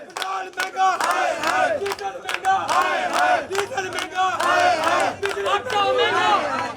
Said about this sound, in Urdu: ملازمین کی جانب سے بلوں میں اضافے کے خلاف واسا ایڈمن آفس میں نعرے بازی کی گئی